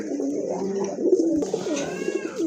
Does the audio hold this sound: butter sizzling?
no